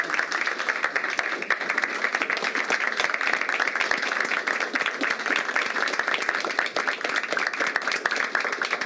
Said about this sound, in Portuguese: vamos aplaudir de pé, Marcelo?